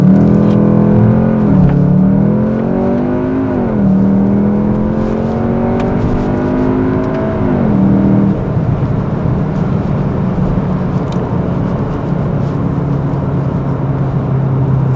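A Cupra Formentor VZ with a 2.0 TSI 310 hp engine, DSG gearbox and 4Drive pulls hard from a standstill, its engine note climbing and dropping through several quick gear changes before it settles into a steady cruise, heard from inside the cabin.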